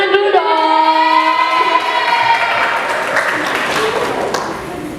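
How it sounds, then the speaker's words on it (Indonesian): An audience at a student association talk show claps as a participant is called up, the applause swelling under a sustained tonal ringing at the start and tapering off toward the end. "Tepuk tangan dulu dong"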